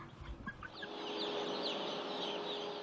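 Baby Ross 308 broiler chicks on a modern broiler farm, a dense chorus of high chirping and peeping that starts with a few clucks and builds into a continuous, fairly quiet, overlapping flock sound.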